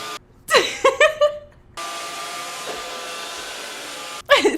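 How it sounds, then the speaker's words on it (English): A Roomba robotic home vacuum cleaner runs with a steady, moderately loud whirring hum across the floor, broken by a few sharp chirping electronic tones at the start and end. "That robotic home vacuum that cruises across the floor"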